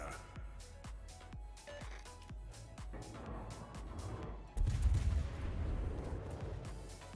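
Ship guns firing in the World of Warships video game: a quick series of regular thumping shots, then a heavy booming salvo that rolls on over a constant background rumble.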